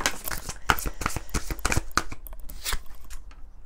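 Lumière de Fée oracle cards are shuffled close by, a quick run of crisp riffling flicks and soft slaps with a few pauses.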